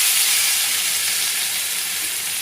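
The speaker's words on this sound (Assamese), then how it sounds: "পিঁয়াজখিনি অকণমান ভাজি ল'লোঁ" Onions sizzle steadily in a hot pan while a fish roe and greens dish is being cooked, a dense continuous frying hiss close by with no voices.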